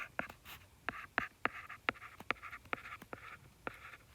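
Pen strokes scratching out an equation for a line on a surface, a series of short, crisp scribbling taps in irregular rhythm, close and fairly quiet with no talk.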